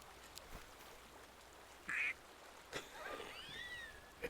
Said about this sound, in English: That's a duck whistle